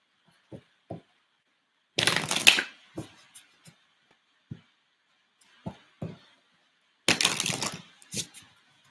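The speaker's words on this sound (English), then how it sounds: "let's get these cards shuffled" A deck of cards being shuffled in two loud riffling bursts several seconds apart, separated by scattered soft taps and clicks of the cards being handled, close and clear with no talking.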